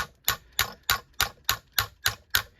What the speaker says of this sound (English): Go back to the small hammer to start.